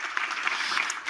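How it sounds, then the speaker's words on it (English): Audience clapping at a book club talk with author Chris Whitaker, a short, even patter of many hands lasting about a second. "We should clap for that."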